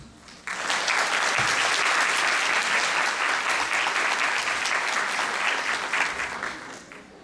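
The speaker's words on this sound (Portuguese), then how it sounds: "Esta conquista merece os nossos aplausos." An audience at a law event breaks into applause, starting abruptly after a brief quiet moment and holding as dense, steady clapping before tapering slightly near the end.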